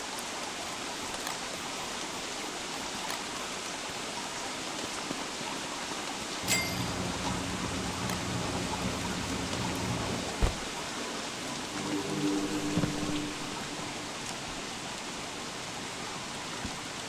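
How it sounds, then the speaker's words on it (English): Rain falls in a steady, faint hiss that lasts throughout, with a few brief clicks and low hums in the background. "Oh, no, it's raining."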